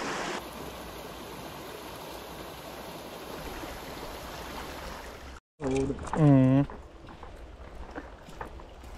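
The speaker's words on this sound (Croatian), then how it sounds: "Ali brza voda je." A fast-flowing small trout stream near a bridge rushes with a steady, loud broadband wash for about five seconds, then someone speaks over the running water.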